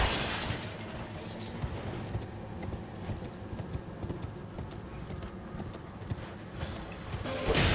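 Horse hooves clip-clopping in the Elden Ring video game, a steady run of hoofbeats under dense game ambience, with a brief crash and a faint whinny early on.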